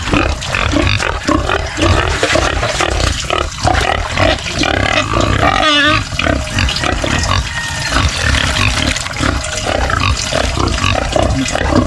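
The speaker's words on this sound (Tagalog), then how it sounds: "dito may mga baboy na tayo" Pigs grunt and squeal continuously and loudly at close range, with the overlapping snorts of many animals forming a dense, noisy chorus.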